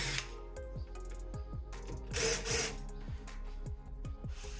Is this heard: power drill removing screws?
yes